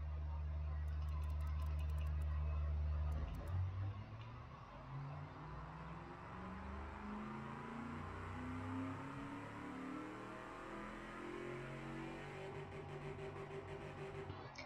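Simulated 3.5-litre cast-iron pushrod V8 in the Automation car-building game, revving loudly at first, then dropping and sweeping steadily up through the rev range as a continuous engine drone.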